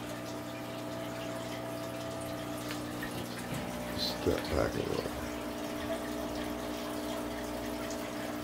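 Water runs steadily during an aquarium water change, a continuous pump-like flow with a low hum, while a voice speaks briefly and a few knocks sound midway.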